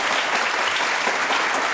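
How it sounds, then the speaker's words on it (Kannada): A studio audience at a televised Kannada interview show breaks into loud, sustained applause, a dense even wash of many hands with no talk over it. "ಚಪ್ಪಾಳೆ."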